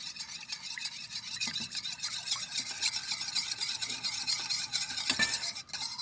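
A mixture of vegetarian oyster sauce, cooking oil and sugar is stirred in a bowl, giving a steady run of quick scraping, clinking strokes with no talk.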